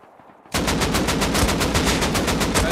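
Rapid automatic gunfire in the video game Rust Console Edition bursts in after a brief quiet moment, a loud, steady stream of evenly spaced shots continuing to the end.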